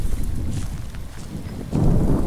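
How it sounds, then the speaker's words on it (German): Wind effect in the horror video game Slender Real Life: a steady low rushing gust fills the background, swelling noticeably stronger and louder near the end, with no voices. "Die haben sogar Windeffekte eingefügt."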